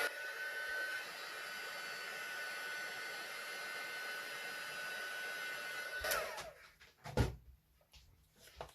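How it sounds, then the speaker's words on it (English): A heat gun blows hot air to heat emboss a handmade birthday card, a steady close whirring hiss for about six seconds before it switches off, followed by a few light clicks and knocks. "Excuse me while I heat emboss."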